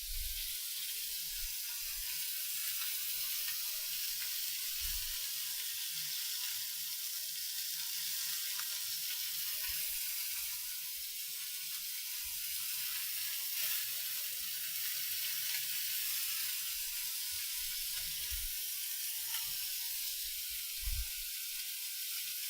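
Meat sears in a hot pan with a steady, even sizzle and hiss that runs unbroken throughout, moderately close, with faint low thumps underneath and no talk.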